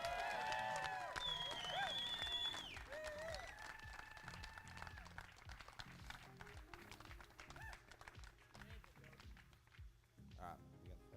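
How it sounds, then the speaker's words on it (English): A crowd applauds at the Australian Mega Drone Nationals finals, with scattered claps fading out over the first few seconds; a speaker talks through it and afterwards. "Let's give them a huge round of applause."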